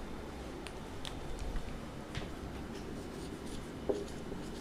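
Chalk or marker scratching across a board in a class 10 physics lesson on refraction, a scatter of brief faint strokes over a steady room hum.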